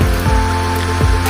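A large waterfall at Banyu Anjlok beach pours down in a steady, loud broadband roar of rushing water that runs unbroken and close for the whole moment, with a faint low hum underneath.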